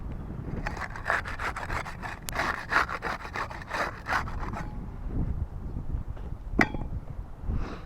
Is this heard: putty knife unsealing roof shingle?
yes